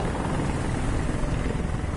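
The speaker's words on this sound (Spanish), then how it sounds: "Me encanta el helicóptero subnormal que pasa por encima" Helicopter flying overhead in the video game Detroit, a steady broadband rotor drone holding constant and fairly loud for the whole stretch, with no voices.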